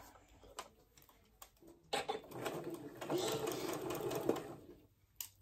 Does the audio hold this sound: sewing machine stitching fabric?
yes